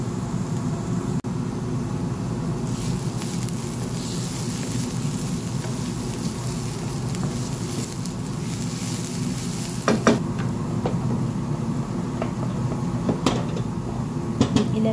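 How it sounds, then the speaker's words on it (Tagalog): Small onions fry in a pan for chicken shawarma, giving a steady broadband sizzle with occasional stirring clicks and utensil taps, near and alone with no talk. "Sa kawali, maglagay lang tayo ng sibuyas na maliliit."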